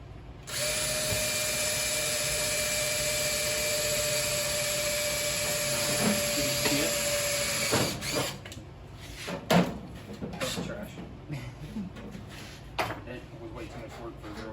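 A power drill with a 1/8 inch bit whines steadily for several seconds drilling through 20 gauge sheet metal, then stops, followed by clanks and scraping of metal handling while people talk.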